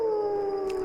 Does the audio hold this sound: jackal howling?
yes